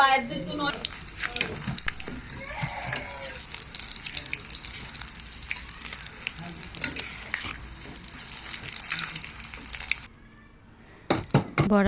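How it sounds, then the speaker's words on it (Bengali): Steady oil sizzling and crackling as fish roe fritters fry in a pan, loud and continuous for several seconds, with a brief quieter pause near the end. "মাছের ডিমের বড়াগুলো লাল লাল করে ভেজে নেব"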